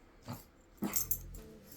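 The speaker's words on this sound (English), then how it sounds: "all the room that's left is full of dogs" Dogs play indoors nearby, with low growls and scuffling and a couple of short, sharp vocal bursts, with no talk.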